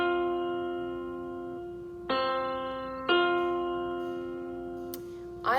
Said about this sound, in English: So a perfect fourth interval sounds like this.